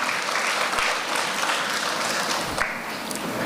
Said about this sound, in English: Please give a round of applause to Mrs. Sipasad